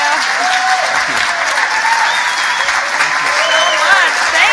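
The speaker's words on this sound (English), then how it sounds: "Let's give Jessica a big, huge round of applause." A conference audience at the Startup Grind Global Conference gives a big, sustained round of applause for Jessica, steady dense clapping with a few voices audible over it.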